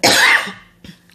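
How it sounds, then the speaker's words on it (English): A single loud, harsh cough bursts out close to the microphone, followed by a fainter second catch of the throat. "Sorry about this cough."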